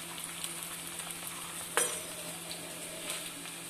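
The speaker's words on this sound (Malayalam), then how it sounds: "നല്ല ചൂടോടെ ഉള്ള എണ്ണയിൽ എണ്ണ ഇതിട്ട് വറുത്ത് കോരിയെടുക്കണം" Rava and potato finger snacks deep-frying in very hot oil give a low, steady sizzle, with one sharp utensil clink partway through.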